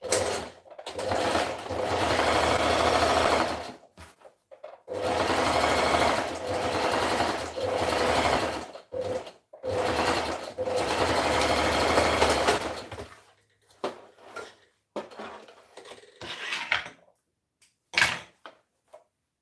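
A sewing machine runs in long, steady bursts while stitching a seam in African print fabric, with brief pauses between runs and softer handling noises near the end.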